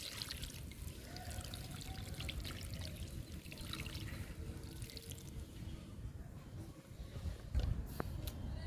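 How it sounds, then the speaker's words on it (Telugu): Water poured onto potted philodendron, tulsi and lavender plants, a steady soft trickle and splash running throughout, close and fairly quiet with faint background noise. "మూడు మొక్కలకి వాటర్ ఇచ్చేసానండి ఫిలోడెండ్రన్ తులసి లావెండర్"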